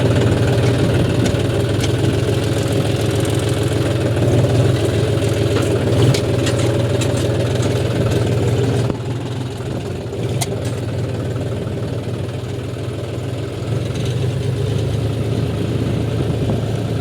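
A John Deere tractor's diesel engine runs steadily at close range in hot summer weather, a continuous loud throbbing drone that dips slightly in level partway through and then carries on without pause.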